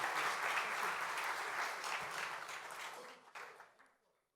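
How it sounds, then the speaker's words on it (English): Audience applause at a private sector business forum, a full burst of many hands clapping that gradually thins and trails off into silence after about four seconds. "Would you please give an applause?"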